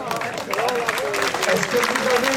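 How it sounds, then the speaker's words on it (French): Audience clapping for a demonstration at a French national police dog training centre (CNICG Gramat), a steady loud wash of applause sustained throughout, with a presenter's voice running over it. "la deuxième démonstration de Ringo, vous pouvez l'applaudir très très très fort"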